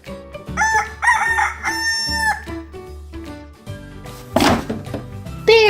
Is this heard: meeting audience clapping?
no